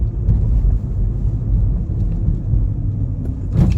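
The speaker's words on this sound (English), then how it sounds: "Okay, so accelerating quickly up the road." A car accelerating quickly up a road on a freezing winter night in Toronto, heard as a low steady engine rumble and road roar from inside, fairly loud and continuous without talk.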